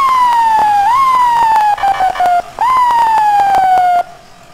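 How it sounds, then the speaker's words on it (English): An FDNY Dodge ambulance EMS siren in the EmergeNYC video game, loud and close, wailing in long sweeping tones, broken by a short gap, then resuming before cutting off abruptly. "I do like that EMS siren."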